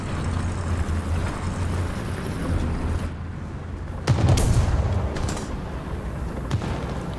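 Gunfire in the War Thunder tank battle with an M2A4 light tank, a loud boom standing out over steady low engine rumble, with a few sharper cracks trailing after it.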